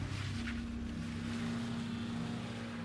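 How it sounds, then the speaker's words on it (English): A Toyota Prius engine runs as a steady, low, continuous drone at moderate distance, with a faint whoosh of movement and no talking. "the killer hopped into the driver's seat of the Prius, started up the engine, and hit the gas"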